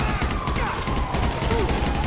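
Dense, continuous gunfire from a firefight against SWAT units in the video game GTA 5, loud and sustained throughout with no breaks.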